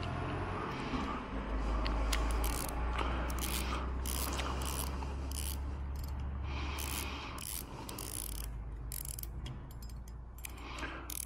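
A Daiwa 2500 spinning fishing reel is cranked during lubrication, giving a close, continuous mechanical whir with fine ratcheting clicks and a low gear hum over about eleven seconds.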